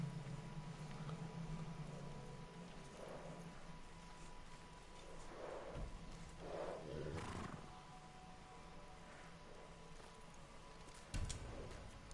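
Several video-game samurai horse neighs and snorts rise and fall over a low ambient bed, spaced irregularly, moderately close, with no talking.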